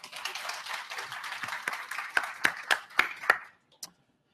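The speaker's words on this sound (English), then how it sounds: "Can you give these women a round of applause?" An audience applauds a panel of women at a technology summit: steady clapping that thins into a few separate, louder claps near the end before fading to quiet.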